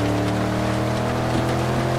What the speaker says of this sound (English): Alright, it's definitely heavy rainfall right here.